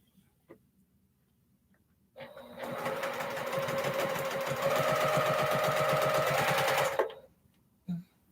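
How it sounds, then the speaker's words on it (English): A sewing machine stitches a baby quilt, starting with a short whir and then running steadily and loudly for about five seconds before it stops, with a faint bump and a brief voice at the end. "You doing any sewing?"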